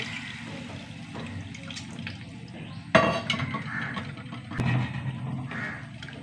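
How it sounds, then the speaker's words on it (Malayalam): Tamarind water being poured into a cooking pot, a soft, close trickle and splash with a few pot clinks partway through and no talking. "ഇനി പുളിവെള്ളം ഒഴിച്ചു കൊടുക്കും"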